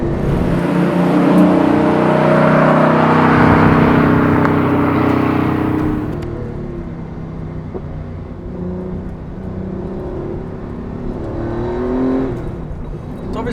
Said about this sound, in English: It does go really well. Sounds really good too. He's got a Dansk exhaust on,